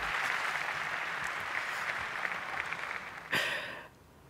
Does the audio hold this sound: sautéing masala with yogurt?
no